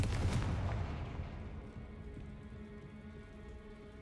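Confringo fire spell blast in the Hogwarts Legacy video game, a loud burst up front that crackles and rumbles away into a fading, rain-like decay over several seconds.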